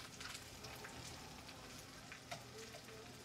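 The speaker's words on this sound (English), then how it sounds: "So, I'll just give it a little stir without spilling it all over." Chopped cabbage and wieners sizzling in a single stovetop pan, a soft steady fry with occasional scraping stirs, quiet and close with no talking.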